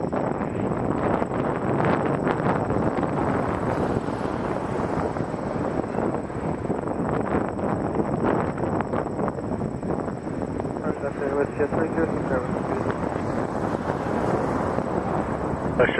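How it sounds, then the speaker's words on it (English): A WestJet Boeing 737-800 arriving from Winnipeg lands on runway 23 at Toronto Pearson, producing a broad, continuous roar of jet engines and wind that holds steady throughout, with a voice talking over it. "WestJet 306, 737-800 on runway 23 from Winnipeg"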